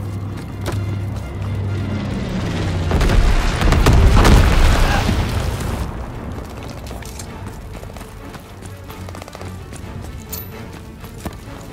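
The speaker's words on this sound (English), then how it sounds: "Enemy bomber! Incendiary bombs incoming!" Incendiary bombs dropped by an enemy bomber in the Call of Duty WWII video game, a loud rumbling blast that swells over several seconds, then fades into mechanical clanks and clicks.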